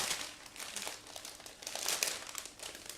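A plastic bag holding the sprues of an ICM 1/48 Ju 88C-6b model kit being opened and handled, close crinkling and crumpling in uneven bursts without talk.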